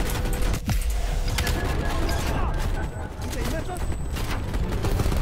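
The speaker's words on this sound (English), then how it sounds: "That's a grenade." Gunfire and a grenade blast in the Cold War video game campaign on realism difficulty, a dense burst of shots and a thud early on, with rattling fire continuing close by.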